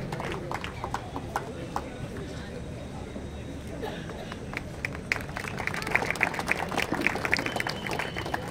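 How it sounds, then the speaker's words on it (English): An audience at an event breaks into a dense round of clapping that swells and holds steady, loud and close, with a faint murmur of voices beneath it. "I would like everyone to make a huge round of applause for him."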